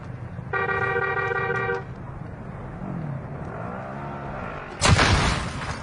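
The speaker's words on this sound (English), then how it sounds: "Love the little horn there to tell his mates to get in" Car horn honking in Call of Duty Warzone, a steady tonal toot lasting over a second, followed later by a sharp loud explosion burst amid game noise.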